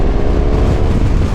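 A 1200 Cross Tourer motorcycle being ridden, a loud, close and continuous roar of engine and rushing wind with no break.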